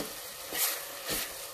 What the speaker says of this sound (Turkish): mercimeği bir 5 dakika kadar suyunu vermeden önce bu şekilde kavurun